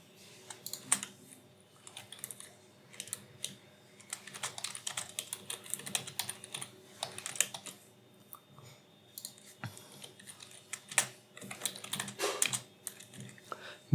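Steady, close typing on a computer keyboard, a dense run of light clicking keystrokes with brief pauses, quiet and alone.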